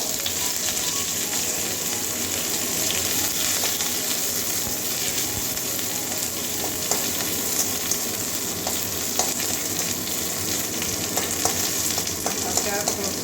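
Curry leaves frying in hot oil for a mung dal with papaya and mango, a loud, dense, continuous crackling sizzle up close, lasting throughout with small pops and no talking.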